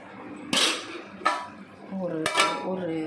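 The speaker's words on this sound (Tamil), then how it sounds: "அப்போது கலக்கும்போது நம்ம இது மாதிரி வச்சு கலக்கணும்" A spoon scrapes and clinks against a pan while egg masala gravy is stirred, with three sharp metallic knocks standing out over a softer ongoing bubbling and a faint voice in the background.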